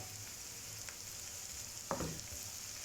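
Finely chopped green chillies fry with softened onions in a pan, a soft continuous sizzle with a few faint clicks and one sharper stir or spatula scrape near the end.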